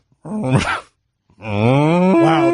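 A man imitates a mooing cow, making two drawn-out, groaning vocal moos separated by a short pause. The second moo is longer and louder, close and alone.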